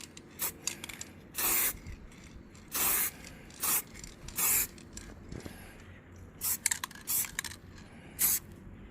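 Aerosol spray paint applied in short bursts to a car badge, coating it black: a dozen or so brief hissing sprays of varying length with pauses between, fairly close and moderately quiet.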